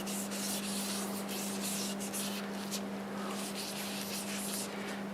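A cloth rubs sanding sealer onto a wood turning spinning on a lathe, giving a soft continuous hiss with repeated brushing strokes over a steady motor hum, fairly quiet and close.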